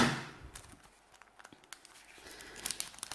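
Sharp crinkling and snipping of a thin plastic trading card booster pack cut open with small scissors, close and moderately loud, with scattered crackles and a brief tearing burst near the end.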